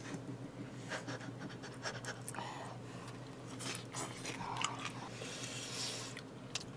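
Someone chews spicy kimchi wrapped with grilled pork belly, giving soft, wet, close-up chewing and smacking sounds over a steady low background hum.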